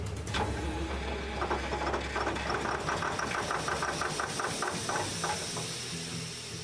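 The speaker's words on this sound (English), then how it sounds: "Okay, this has a runaway. You'll know it'll go to about 9 billion RPM." A runaway-prone engine cranks and catches with the air valve opened for free flow, settling into a steady rapid knocking idle with hiss, fairly loud and alone for several seconds.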